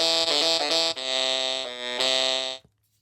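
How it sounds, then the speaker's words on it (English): Carry-On Digital Wind Instrument 2 Plus set to a tenor voice and played with hard, edgy articulation: a few short, punchy tongued notes give way to a loud sustained buzzy tone that cuts off abruptly, with no talking. "This could be tenor, and also if you articulate more, then you get this kind of edgier sound."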